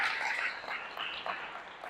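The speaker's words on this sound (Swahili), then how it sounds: "Tumpe Yesu makofi ambayo tunaelewana kwa imani" A church congregation applauds during a Swahili sermon on the life of prayer, producing a steady wash of clapping that stays fairly loud for about two seconds, with a few sharper bursts.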